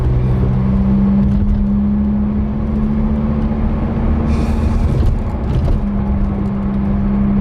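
A Lamborghini driving on a road in Miami, heard from inside as a loud steady engine drone and tyre roar with a sustained low hum and a brief hiss of passing traffic midway.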